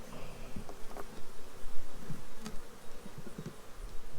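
Honeybees buzzing around a small nuc hive outdoors, a dense close hum with individual bees droning past the listener, fluctuating in loudness throughout.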